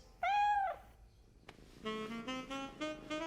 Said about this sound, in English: What's that noise, Daddy? He's purring.